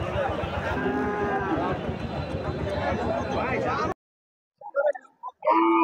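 Dairy cows at a livestock market in Shariatpur, Bangladesh, lowing among a busy crowd, with continuous chatter and voices over a few seconds, then a brief pause and a few scattered louder sounds.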